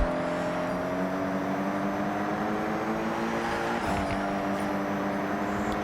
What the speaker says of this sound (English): It also sounds insane with all of these GRGTs around me. Like hearing the turbo spool on all of them.